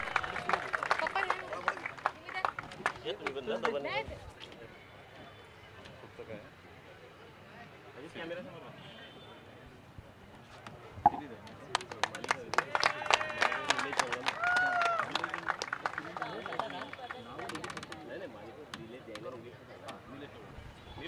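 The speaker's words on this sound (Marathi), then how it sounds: "त्याच्यासाठी एकदा जोरदार टाळ्या जाऊ द्या" Scattered clapping and applause from a crowd at a Chakdev overarm cricket tournament prize ceremony, honouring the best bowler. It swells in patchy bursts under someone talking over a loudspeaker, and the crowd murmurs in the background.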